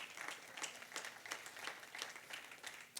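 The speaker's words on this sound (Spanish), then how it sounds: "Den un aplauso fuerte al Señor." A church congregation applauds during a sermon: steady, fairly faint clapping from many hands that continues throughout, with no voices heard over it.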